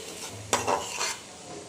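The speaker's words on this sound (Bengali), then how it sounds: "টমেটোটা দিয়ে একটু হালকা করে কষিয়ে নিব" Tomato paste sautéing in a pan as a spoon stirs it, a brief scraping swirl over a low, steady sizzle, close by.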